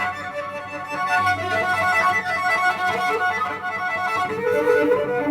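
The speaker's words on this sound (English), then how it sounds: "a harmonic trill where you trill between 2 harmonics on 2 adjacent strings" Cello harmonic trill alternating rapidly between two harmonics on adjacent strings, a shimmering, wavering high tone held steadily at moderate level with no talking over it.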